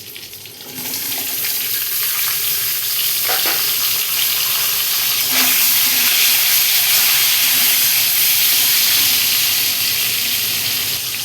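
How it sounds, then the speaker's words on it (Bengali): Cut potato and eggplant frying in a pan as part of a crab dish, giving a loud, steady, close-up sizzle that barely changes throughout. "এবার আমি দিয়ে দিচ্ছি কেটে রাখা আলু আর বেগুন।"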